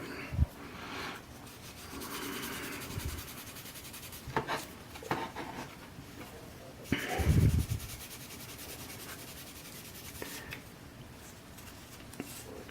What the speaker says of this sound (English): we'll just take some 320 sanding paper, and we'll go ahead and start smoothing her out